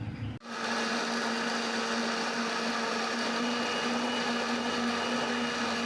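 Electric blender running steadily, pureeing fried shallots and chilies with water into a spice paste for chicken siomay, a loud constant whirring motor hum that kicks in after a short pause and continues to the end.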